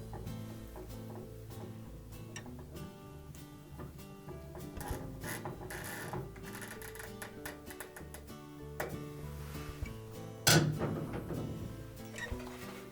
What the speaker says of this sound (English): Reinstall that retaining screw.